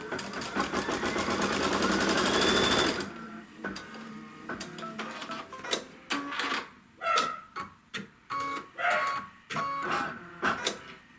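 A sewing machine stitches a trim line on a quilt block, running in a loud, steady burst for about three seconds, then giving way to scattered clicks and short mechanical whirs.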